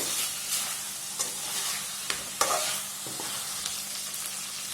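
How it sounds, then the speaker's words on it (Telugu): Ginger chicken fries in oil over a medium flame, giving a continuous close sizzle broken by a few soft stirring scrapes and light taps. "ఇలాగే మీడియం ఫ్లేమ్లోనే మనము ఇంకో మూడు నిమిషాల పాటు బాగా ఫ్రై చేసుకుందామండి చికెన్ని"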